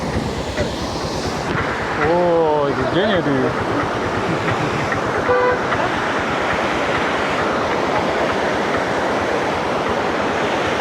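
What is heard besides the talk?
waterfall near tea plantations in Munnar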